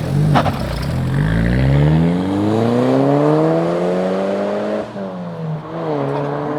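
A car engine revs hard at launch, its pitch climbing steadily for several seconds, dipping briefly, then rising again; loud and close with no talking.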